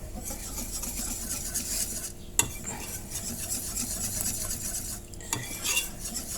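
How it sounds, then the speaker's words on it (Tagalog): Puto batter is stirred to work in butter, giving a steady scraping swish of a utensil against a bowl with occasional sharp clinks, close and moderately quiet with no talking. "Mix it again to incorporate the butter to your mixture"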